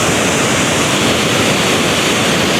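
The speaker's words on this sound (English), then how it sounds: "I think it's called Dalkearney Waterfall." Waterfall in a Scottish ravine on a windy day, a dense, steady, loud roar of falling water filling the whole stretch with no voices.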